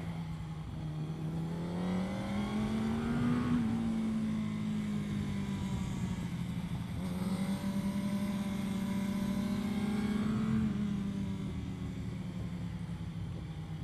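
Race car lapping Winton Raceway, its engine a steady loud drone that swells and eases as the throttle is held even through corners, rising twice to peaks before settling back.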